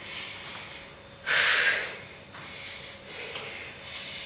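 Heavy exhaling during a cardio abs workout, one strong breathy blow near the middle followed by softer, fainter breaths, close to the microphone with no talking.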